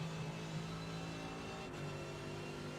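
A GT race car from the iRacing VRS GT Sprint at Road America, in fourth gear at full throttle, with a steady, loud, sustained engine note. A faint brief whoosh cuts in near the end, and no one speaks.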